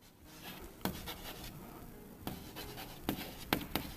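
Marker or chalk writing on a board during a physics class, made of soft continuous scratchy strokes broken by several sharp taps, quiet and close, with no one speaking.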